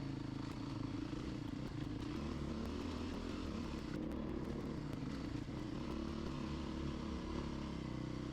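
A Beta RR 430 motorcycle ridden over rocky, rough terrain, its engine droning steadily and close throughout with a faint clatter over it, and no talking.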